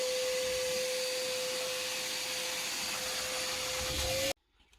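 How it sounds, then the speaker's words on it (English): A vacuum cleaner sucks up concrete drilling dust during a radon mitigation system installation, a steady close whine and hiss held for about four seconds before cutting off abruptly. "And then I'm going to vacuum all this up,"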